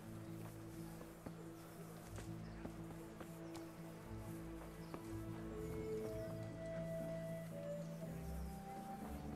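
A horse in Kingdom Come: Deliverance clip-clops at a steady walking pace, its hoofbeats faint and rhythmic over a low ambient drone, with a brief whinny-like tone partway through.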